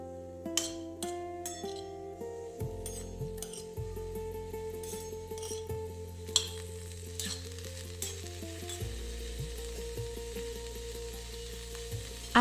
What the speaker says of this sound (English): We need to stir the beans well so that the oil coats them nicely.